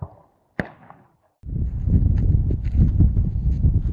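Single sharp heavy-recoil gunshot outdoors, a loud close crack with a short decaying tail, then a pause before steady rumbling wind and handling noise take over.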